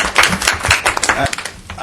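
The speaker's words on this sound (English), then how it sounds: "let's give them a big round of applause" An audience at a regional advisory council meeting applauds with brisk, close, crackling claps that rise and fade over a couple of seconds, with some voices mixed in.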